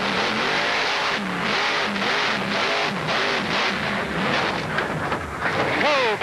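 Onboard the Gravedigger monster truck at a 1993 Lebanon Valley race, a loud engine roars and revs in surging waves with heavy wind rumble, climbing to a sharp whine near the end of the ride.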